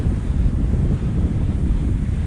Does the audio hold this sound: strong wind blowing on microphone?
yes